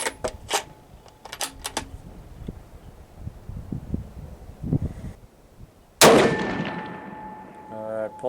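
A Savage 110T rifle in 6.5 Creedmoor fires a single sharp, loud shot on a range, with a reverberant tail ringing out; earlier come quieter clicks and handling sounds from the shooting position.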